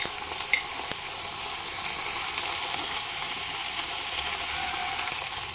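Vegetables for shukto fry on a medium flame with a soft, even sizzle throughout, moderately quiet with a couple of faint clicks and no talk.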